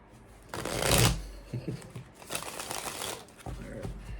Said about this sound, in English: Let's do 1 more shuffle.